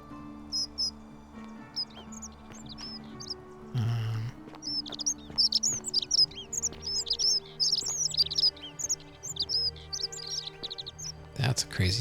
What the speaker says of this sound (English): That's a crazy sounding bird.